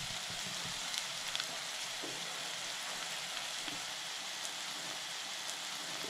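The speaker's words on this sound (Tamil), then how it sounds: "ஸோ ஆனியன் வதங்கிடுச்சு, போதும்." Onions sautéing in a pan for a broccoli stir-fry make a steady, close sizzle with a faint crackle and a few soft clicks throughout, with no voices.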